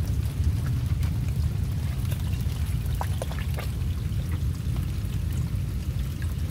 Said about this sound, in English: This is water coming from my neighbor's yard behind me into mine.